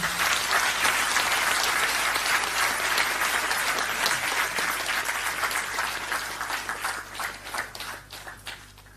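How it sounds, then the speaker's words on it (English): Enthusiastic audience applause at an award ceremony, a dense wash of clapping that holds steady, then thins into scattered individual claps as it fades out. "Please give him a round of applause."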